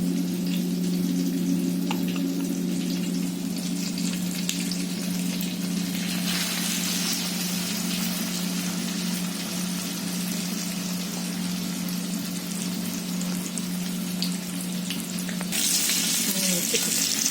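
Stuffed pomfret fish fried in a pan, the flour-coated fillets crackling in a steady, continuous sizzle of hot oil, loud and close throughout with no voices.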